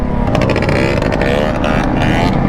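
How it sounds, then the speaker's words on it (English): A quad bike engine revs hard nearby with a loud, raspy, continuous roar that rises and falls in pitch, and voices can be heard faintly under the noise. "That bike literally sounds like a flipping Banshee."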